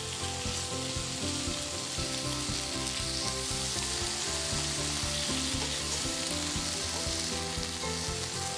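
Pork slices, squid and scallop stir-fry in an oiled pan for ankake yakisoba, sending up a loud continuous sizzle with rapid rhythmic scraping and tossing throughout, close and with no talk.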